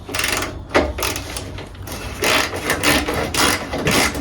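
Ratcheting and scraping of a wrench loosening a 10 mm hex bolt on the front fender of a Mercedes-Benz W124 300TD estate, with bursts of rapid clicking and metallic rubbing close by.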